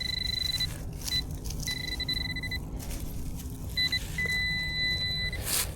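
Metal detector beeping over a target that reads as both ferrous and non-ferrous near a telephone pole, several repeated steady high tones in short bursts over outdoor background noise.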